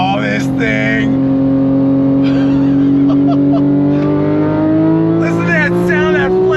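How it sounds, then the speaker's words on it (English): The flat-six engine of a 2015 Porsche 911 GT3 pulls hard under acceleration, its loud, rising howl sweeping upward through the gears, while excited voices call out over it. "Listen to that sound, that flat six."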